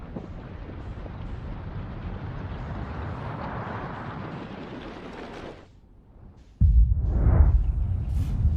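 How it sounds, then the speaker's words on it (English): A large explosion in the video game Outer Wilds, a sustained roaring rumble that cuts off abruptly into near silence before a second deep, loud blast bursts in with a rising whoosh. "Explosion, light, something flies that way, and the wreckage falls into giant deep."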